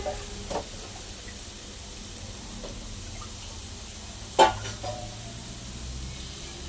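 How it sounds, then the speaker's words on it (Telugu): Washed drumstick pieces dropped into a tomato mixture in a pan, one sharp clatter and splash standing out from a faint, quiet simmer, with a couple of smaller knocks around it. "ఒకసారి నీళ్ళల్లో మునక్కాయ అంతా ఒకసారి బాగా కడుక్కొని వేసేసుకుందాము."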